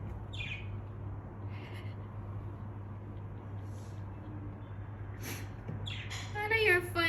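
Birds chirp and squawk outdoors in brief, scattered calls over a steady low hum, faint at first and then livelier and closer near the end, with no one speaking.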